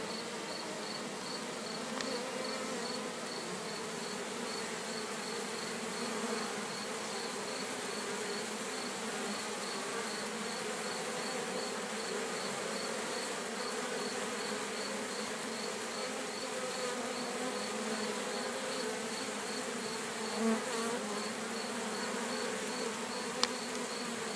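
Steady, dense buzzing of many honey bees swarming close by at a log hive, continuous and even throughout, with no voices.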